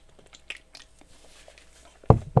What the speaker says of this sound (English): I also got myself a Ferrero Rocher. Just eating sweets